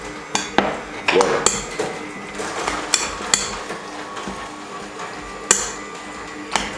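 A spoon scrapes and clinks against a pot while a curry mixture is stirred, giving irregular metallic taps and knocks at close range with quiet shuffling between them.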